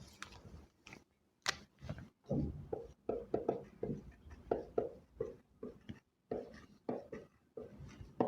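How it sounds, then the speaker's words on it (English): Handwritten notes are scratched out close by in quick, uneven strokes, with short pauses between bursts of writing. "I write it down here."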